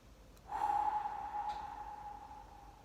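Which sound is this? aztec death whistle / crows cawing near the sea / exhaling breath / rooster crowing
exhaling breath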